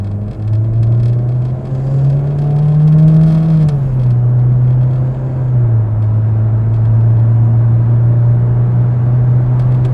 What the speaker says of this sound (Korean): 네, 저희가 급가속을 해봤는데요.